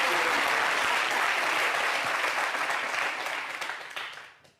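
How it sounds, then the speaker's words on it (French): Loud, dense applause from a crowd, sustained for several seconds before tapering off and fading out at the end. "applaudissements pour le CT"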